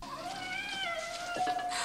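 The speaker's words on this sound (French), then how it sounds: "Je veux pas entendre de bruit de chat qui meurt." A cat meows in a long, wavering, drawn-out cry within a scene from the 1989 horror film Halloween 5, heard up close and fairly loud with no talking.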